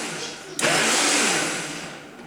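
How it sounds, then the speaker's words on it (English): A kitchen blender switches on abruptly and whirs loudly and steadily close by while making sous vide egg bites, its pitch easing slightly toward the end. "Dixie, our dog, doesn't like the blender."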